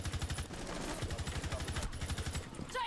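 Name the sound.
suppressed gunfire in the video game Rainbow Six Siege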